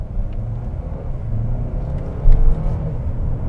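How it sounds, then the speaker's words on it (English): A 2021 Mercedes-Benz GLA with a 2-liter turbo four-cylinder accelerates gently, heard from inside as a steady low engine rumble and road noise that swells briefly, with faint whirring from the turbos spooling up. "You can hear the turbos spooling up."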